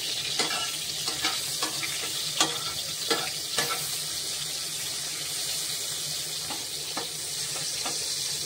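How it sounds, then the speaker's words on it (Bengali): Dried fish fries in a pan with a steady, close sizzle, broken by sharp scraping and clattering as it is stirred and turned, continuing without a break and with no voices. "প্রথমে আমি ড্রাই ফিশগুলো একটু পরিমাণে ফ্রাই করে নেব।"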